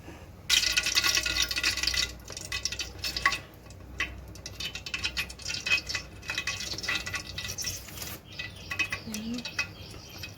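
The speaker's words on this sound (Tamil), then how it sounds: "இப்போ வந்து பிரியாணிக்கு தேவையான எண்ணெய் ஊற்றிக்கலாம்." Cooking oil pours into a dry pot for biryani, a steady close trickle and splash that begins sharply, thins into intermittent glugs and drips, and keeps going to the end.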